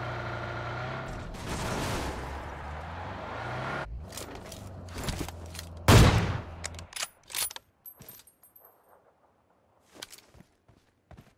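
Gunfire in the mobile battle royale game PUBG Mobile, a burst of loud shots with one sharp peak followed by a few scattered, fading pops, then near silence.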